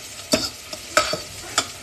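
Metal utensil scraping and stirring food in a metal frying pan while dinner cooks, three or four sharp scrapes in an uneven rhythm over a soft background sizzle, close and fairly loud.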